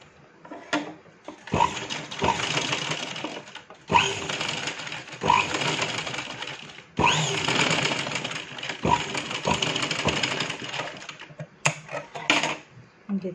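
A sewing machine runs a straight stitch over fabric to form tucks, sounding as a rapid mechanical whir in several bursts of a few seconds each, separated by short pauses and light handling clicks.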